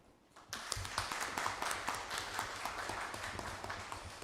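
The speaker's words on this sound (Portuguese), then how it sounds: "uma salva de palmas para o Valmir." Council members at an ordinary municipal session applaud for Valmir Sales, steady clapping bursting in after a brief quiet start and continuing evenly, filling the chamber.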